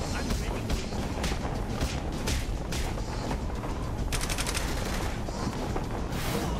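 Dense gunfire from Saints Row The Third: sustained bursts of shooting and overlapping shots fill the scene continuously, loud and busy, with occasional speech mixed in.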